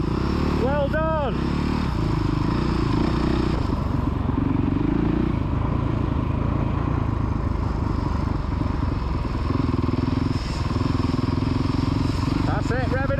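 Kids' motocross bikes rev on the Astley MX track, a steady droning engine roar with rising and falling throttle sweeps, loud and close throughout, while voices talk over it.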